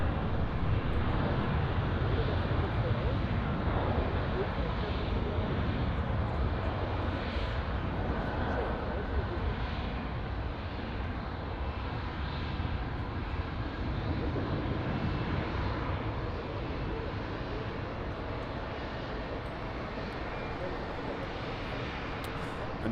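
An Air Baltic airliner at Munich Airport produces a steady, broad jet roar throughout, with wind noise and occasional light talk mixed in.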